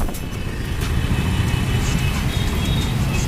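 Road traffic at Gangwal bus stand in Indore, a steady loud rumble of car and vehicle engines passing close by, continuous with no talk.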